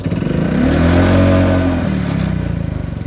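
A Talon GSX 150 R2 motorcycle engine idles too low, a close, rough, loping rumble that sags and wavers unevenly for a few seconds with no talking.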